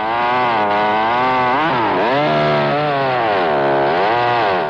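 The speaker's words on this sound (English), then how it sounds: "The new Easy is the lightest chainsaw Homelight ever built." A 1969 Homelight Easy chainsaw, a lightweight gas saw, runs loud and steady on its own, its engine note rising and falling as the throttle is worked, with no talk over it.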